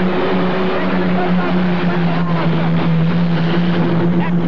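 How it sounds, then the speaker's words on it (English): A tractor-pulling vehicle with a single injected Allison aircraft engine roars at an indoor super pull event, a loud sustained droning engine with a steady low tone, with wind buffeting and crowd-area noise underneath. "Excellent pull for the single Allison injected motor"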